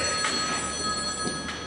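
A telephone rings steadily throughout, its sustained electronic tones clear against a constant room background on stage at a Flic Flac circus show in Gießen.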